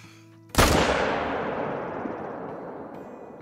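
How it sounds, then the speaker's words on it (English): A single loud M1 rifle shot fired at a stag in the hunting game Call of the Wild, a sharp crack that rings out and decays slowly over about three seconds. "250 yard perfect heart shot right in the chest with the M1"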